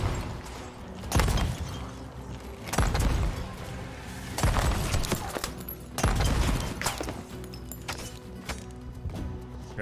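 Rapid bursts of gunfire in a Sea of Thieves ship battle, several loud volleys of shots cracking out at roughly one-and-a-half-second intervals over a steady background of game noise.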